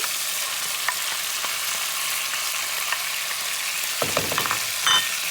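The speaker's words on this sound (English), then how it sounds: "So we keep flipping our chicken until we get the golden brown color." Chicken pieces and onion fry in a pan for a Moroccan chicken and carrot tajine, giving a steady close sizzle with a few soft clinks and stirring scrapes near the end.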